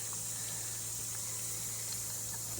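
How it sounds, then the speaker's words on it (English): Compressed air from a running compressor forcing water out of the plumbing lines of a Forest River Sunseeker RV during winterizing, a steady hissing rush with a low constant hum underneath, unbroken and fairly quiet. "Push all that water out."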